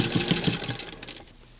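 A sewing machine stitches straight over pins while hemming decorative cuffs, its rapid mechanical whir loud and close at first, then thinning out and fading as the stitching slows.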